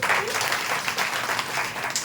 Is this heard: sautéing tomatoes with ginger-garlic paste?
no